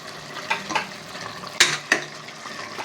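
A spoon stirring garam masala, coriander powder, biryani powder and chilli powder in a pot for chicken biryani, with soft scraping and a few sharp metallic clinks against the pot over a low sizzle.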